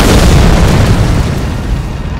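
A loud, booming fiery blast from the Fire Deadly Sin incantation in Elden Ring, a dense rumbling explosion that fills the whole moment.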